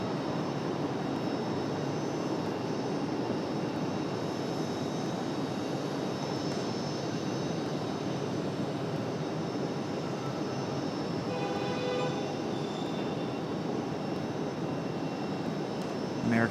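An American Airlines Boeing 737 taxis out, its engines a steady mid-level rumble and hum that holds throughout, with a brief higher whine rising near the end.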